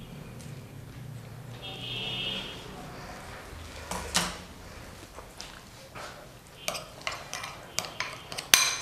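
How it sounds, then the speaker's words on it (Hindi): Spoon scraping and clinking against a bowl while raita ingredients are stirred and mixed, soft and irregular, close by, with faint background hum and no talking. "सबको अच्छे से मिक्स कर देंगे"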